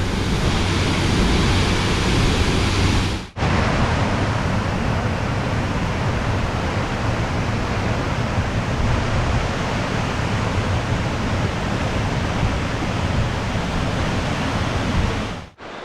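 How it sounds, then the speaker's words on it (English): A waterfall near Brevard, North Carolina, with strong flow pouring over rocks, makes a loud, steady, close roar of rushing water that stays continuous, apart from a brief break near the start and a drop at the very end. "the water's coming off of this pretty good"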